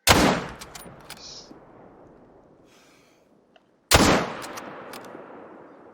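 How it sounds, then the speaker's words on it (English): A single loud rifle shot while hunting in The Hunter: Call of the Wild, with a long fading echo, then a second loud rifle shot a few seconds later. "I shot that one on the neck"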